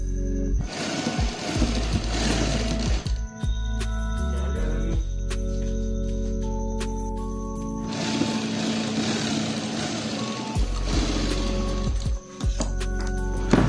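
A sewing machine runs in long steady bursts, loud and close, while lace is stitched onto the sleeve of a kameez, with a short pause between runs and no talking.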